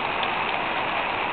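Heavy rain pours down over a flooded football training field in Caruaru, Pernambuco, a dense, even, unbroken hiss with no voices.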